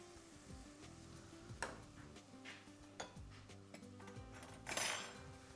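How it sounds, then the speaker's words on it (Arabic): Tomatoes go into a pan of pasta, heard as a few clinks and knocks of utensils against cookware, with a louder burst of sizzle and clatter toward the end over a quiet low background hum. "ضفت الطماطم"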